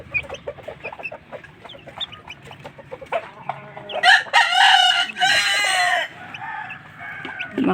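Hens cluck and chatter inside a coop in a run of short, choppy calls, then break into louder, drawn-out squawks near the end, close by and lively.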